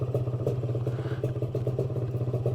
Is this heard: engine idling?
yes